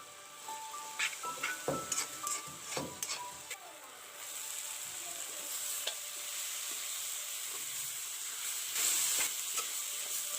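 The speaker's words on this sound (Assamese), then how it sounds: "মাজে মাজে এনেদৰে লৰাই থাকিব যাতে লাগি নধৰে।" Greens fry in a pan, a steady soft sizzle under intermittent scraping and clinking as they are stirred, fairly quiet and close.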